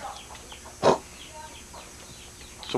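Chickens and chicks on a farm in Rodeiro, Minas Gerais: one short cluck stands out over a quiet, steady outdoor background, with a faint call near the end.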